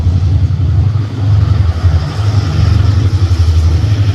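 A heavy Hitachi diesel locomotive engine hauling a passenger train drones loud and low, pulsing as it accelerates, steady and close with no voices.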